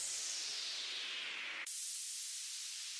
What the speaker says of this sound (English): Let's use another downlifter.